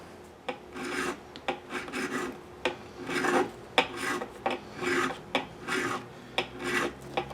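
A crowning file works the frets of a Stratocaster guitar in steady, repeated rasping strokes, close and fairly quiet, with small knocks between passes and no talk.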